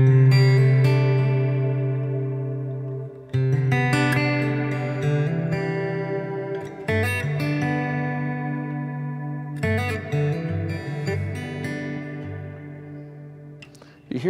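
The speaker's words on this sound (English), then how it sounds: "So if we dial that in on here on the with room on the mode type, it'll sound like this." Acoustic guitar played through a reverb pedal set to room mode with modulation: strummed chords and picked notes ringing with a lush, wavering tail, loud and close, with several fresh strums spaced a few seconds apart.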